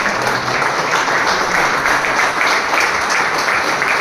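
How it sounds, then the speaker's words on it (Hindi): A hall full of people at a peace and welfare committee meeting stands and applauds police officers, a loud, even roar of clapping filling the room without pause, no talking over it. "सब लोग खड़े रह जोरदार तालियों से इन सभी पुलिस ऑफिसर्स का सम्मान करें"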